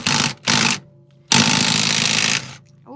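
An impact wrench rattles while removing a nut from a Toyota Land Cruiser 80 Series steering knuckle, giving two short hammering bursts and then a longer one, loud and close in a garage.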